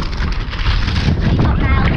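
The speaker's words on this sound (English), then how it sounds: "This is way too windy for this." Strong wind roars and buffets the microphone during a family bike ride, a steady broadband rush with gusts rising toward the end.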